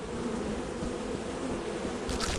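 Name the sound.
bees buzzing at beehive in video game Lethal Company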